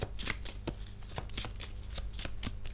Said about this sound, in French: on va recouvrir les cartes négatives